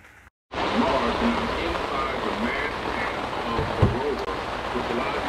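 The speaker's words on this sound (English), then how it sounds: "it's raining cats and dogs" Heavy rain pours down in a dense, steady hiss that fills the whole clip after a brief quiet start.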